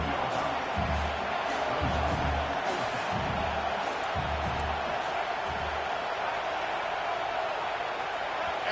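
Stadium crowd in an NCAA college football video game, a Maryland Terrapins game, with a broad steady roar that rises and falls, under faint commentary.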